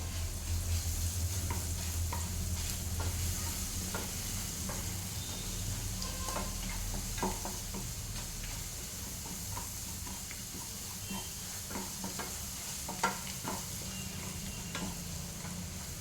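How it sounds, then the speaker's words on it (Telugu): Garlic chili paste fries in oil with a steady soft sizzle and hiss, broken by frequent light scraping stirs and occasional small pops, moderately quiet and close. "ఇలా వెల్లుల్లి కారం మంచిగా నూనెలో ఫ్రై అవ్వాలి"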